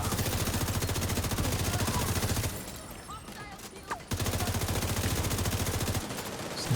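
Rapid automatic gunfire in a video game rattles loudly in long sustained bursts, pauses briefly for a quieter stretch with scattered sounds, then resumes at full intensity.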